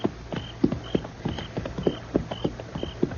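A horse clip-clops in a steady walking rhythm, hoof strikes repeating about every third of a second, moderately close and clear, with a low background hum and no talk.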